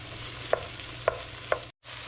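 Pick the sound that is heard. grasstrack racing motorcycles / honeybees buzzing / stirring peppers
stirring peppers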